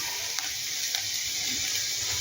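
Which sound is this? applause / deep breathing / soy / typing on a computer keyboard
soy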